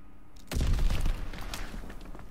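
Heavy gunfire erupts in a Call of Duty WWII battle, a dense, booming burst of shots and blasts starting abruptly, then continuing as sustained crackling fire with scattered pops.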